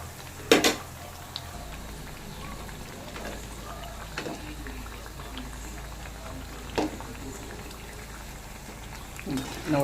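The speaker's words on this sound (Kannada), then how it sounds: "ಈ ಥರ ಚೆನ್ನಾಗಿ ಫ್ರೈ ಮಾಡ್ಕೊಳ್ಬೇಕು ಸುತ್ತಲೂ." Potato nippattu frying in hot oil, a steady, even bubbling sizzle that fills the whole span, with a few sharp utensil clicks near the start and scattered light taps later.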